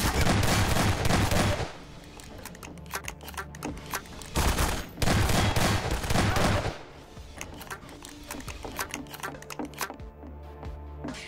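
Gunfire in the Half-Life 2 mod Dissolution rattles out in two loud sustained bursts of rapid shots, with quieter scattered clicks and single pops between them.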